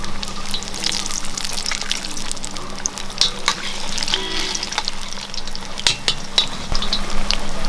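Egg bajji frying in hot oil while being stirred: a steady, close sizzle with intermittent light scraping and clinking from the stirring, no voices.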